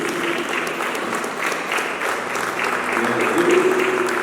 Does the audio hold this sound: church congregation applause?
yes